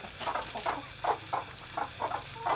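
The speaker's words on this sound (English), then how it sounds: "a hen is broody, they get a specific clicky sound" A broody hen gives a run of short, clicky clucks in a steady rhythm, close and moderately loud over a constant high background hum, with no talking.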